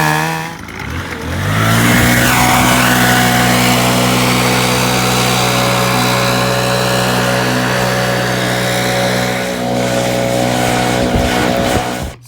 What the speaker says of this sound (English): And then I'm gonna blow it off so I can see good.